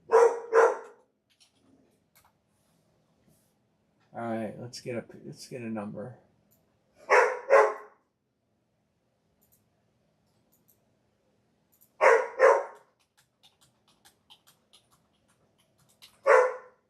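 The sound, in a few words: dog barking excitedly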